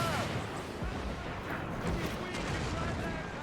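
Mortar cannon fire in Assassin's Creed Black Flag, a dense rumbling barrage of booms and blasts that stays loud throughout with no clear gaps, mixed with battle noise.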